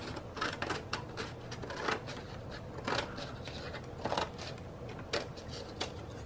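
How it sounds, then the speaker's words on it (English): A pair of scissors trims excess paper in quiet, crisp snips that repeat at a steady, roughly once-a-second rhythm, close by with no voices. "I get a pair of scissors and I trim off this excess stuff"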